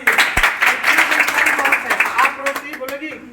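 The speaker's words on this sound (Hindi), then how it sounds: "बहुत अच्छा, ताली मार दीजिए।" Children in a classroom clap together in a quick, irregular burst of applause that runs for several seconds and fades slowly, with some voices mixed in.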